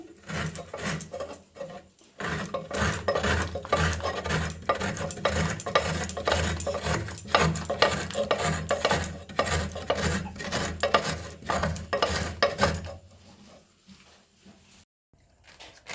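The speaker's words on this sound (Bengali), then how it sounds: "এই যে মুঠি নারকেল কুড়ানি বটি, এই যে নারকেল আমি কুড়ে নিচ্ছি" Fresh coconut being scraped on a handheld coconut scraper blade (bonti) in a home kitchen, a steady run of rapid rasping strokes lasting over twelve seconds, close and fairly loud, then trailing off into near quiet.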